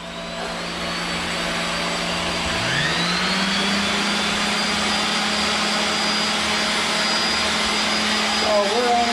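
A workshop full of power tools running at once, including a sander, three routers, a chop saw, a radial arm saw, a wet-dry shop vac and a table saw, forming a loud continuous drone with a pitch rising as one spins up.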